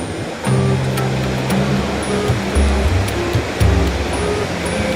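Large ocean waves surge and crash around a small fishing boat at sea, a loud, continuous roar of churning water with rolling swells and heavy low rumble.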